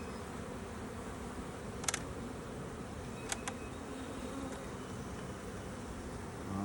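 Honey bees in a hive opened for its first spring inspection give a dense, steady buzzing drone that stays constant throughout, with a few brief clicks of handling.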